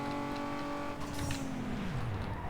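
Nissan 350Z engine in the racing video game NFS Underground 2, a steady droning rev that drops in pitch near the end as the car slows, with a brief tire-like screech, no talk.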